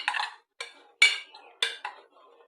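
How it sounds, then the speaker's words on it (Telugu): Metal clanks and scrapes as a pressure cooker lid is opened, with several separate clinks of the lid and utensils in a quiet kitchen, close and fairly loud. "ఇక కుక్కర్ని ఓపెన్ చేద్దామండి"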